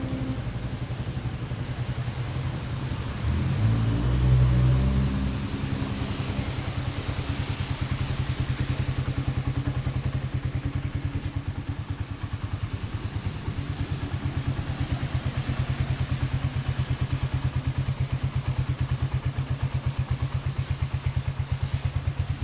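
A 2018 GPX Legend 200 motorcycle engine in good running condition idles steadily throughout, a low rumbling putter with a slight surge near the start, no voices.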